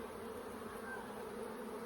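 Honeybees buzz steadily during a hive inspection, a dense continuous drone of many insects, close and even with no pauses.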